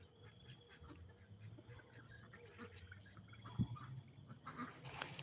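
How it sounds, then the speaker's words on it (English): Muscovy ducks paddle around a pool at night on a farm, giving faint, scattered quacks and soft calls against low background noise, with a brief splash or bump partway through. "These are our Muscovy ducks around in the pool."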